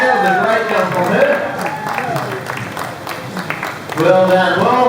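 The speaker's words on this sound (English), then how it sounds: "give her a round of applause, guys" Applause from an audience at a tiger show on Tiger Island, Dreamworld Australia, following a tiger's leap for a piece of chicken; the clapping runs under a presenter's continuous talk, swelling near the end.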